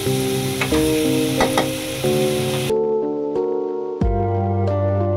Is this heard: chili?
yes